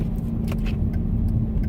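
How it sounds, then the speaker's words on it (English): A rear-wheel-drive Hyundai Genesis Coupe drives through New York blizzard snow, giving a steady, close rumble of engine and road noise that holds throughout the brief moment without any talk. "Rear wheel drive, Genesis Coupe."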